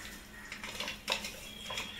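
Popcorn kernels popping inside a covered pot on a gas flame, a few sharp, scattered pops and ticks against the metal over a faint steady hiss, with no talking.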